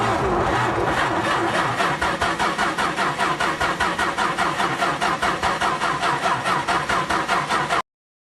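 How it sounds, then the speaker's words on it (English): A car engine cranks over and over in a fast, even rhythm for about eight seconds without catching, loud and close, then cuts off abruptly. "I think I may have flooded it again"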